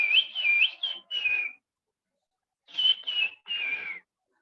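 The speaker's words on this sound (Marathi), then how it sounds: "जसं आयराचा आवाज आहे सुबक पक्षाचा" An iora gives its clear whistled call in two bursts of three or four warbling, sliding notes, separated by a short silence, close and distinct with no other sound.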